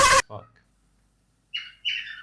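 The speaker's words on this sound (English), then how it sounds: "Oh, you got a parrot." A pet parrot gives a couple of short, bright chirps after a brief burst of noise and a moment of silence, heard close by with no talk over them.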